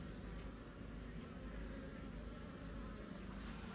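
Honey bees buzz steadily around a hive, many of them laden with pollen, a dense continuous drone of wings at close range with no voices over it.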